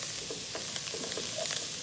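Chopped onion and mint leaves being stirred together for tomato chutney, a soft continuous scraping and rustling with faint clicks of a spoon, close and fairly quiet throughout.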